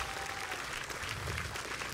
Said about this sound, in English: Let's give Ross a round of applause.